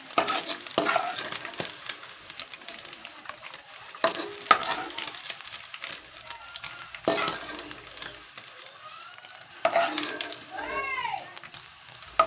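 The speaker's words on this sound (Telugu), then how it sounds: "నెత్తళ్ళు బాగా వేగాలి" Small fish fry in oil for a Telugu fish curry, a quiet, continuous crackle and sizzle with scattered clinks and stirring knocks, plus a brief squeaky scrape near the end.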